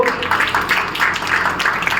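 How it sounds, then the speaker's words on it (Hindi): People at a community meeting clap for the doctor in a steady, dense round of applause that stays fairly loud and even for its short length. "डॉक्टर साहब ने तालियां बजा दो"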